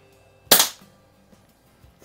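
A single sharp crack from an Umarex Ruger Mark IV air pistol rings out loud and close, then fades quickly into near silence with only faint handling noises afterward.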